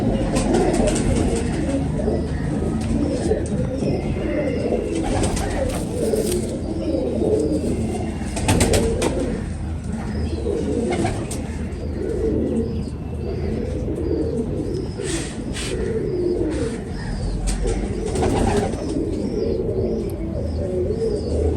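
Pigeons, including a Teddy-type hen, coo in a close, continuous chorus that stays loud throughout, with scattered chirps and an occasional flutter of wings.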